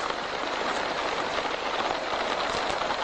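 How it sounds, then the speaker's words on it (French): Steady, dense rain falls continuously, a broad close hiss with no pauses and no other sound above it. "Oui, il pleut."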